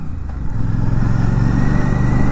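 A Royal Enfield Classic 650 motorcycle rides off-road over a rough track, its engine a loud, close, steady low rumble that swells slightly after a brief softer start.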